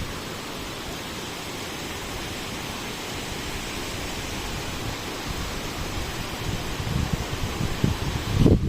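Typhoon wind blowing steadily through trees, a broad hissing rush that builds slightly toward the end, heard alone without voices.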